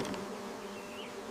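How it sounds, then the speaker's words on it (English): Agitated bees during a cliffside honey harvest, a dense, close, continuous buzzing swarm, loud and steady with no talk over it. "the bees are getting agitated."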